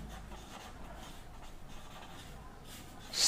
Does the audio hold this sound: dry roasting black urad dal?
no